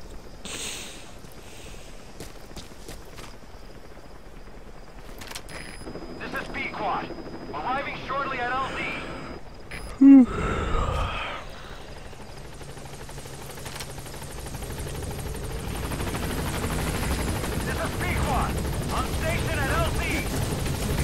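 Helicopter rotor and engine noise in the Metal Gear Solid V: The Phantom Pain video game, a steady broadband wash building through the clip with wind-like rumble, under game sounds, shouted voices and a sharp thump.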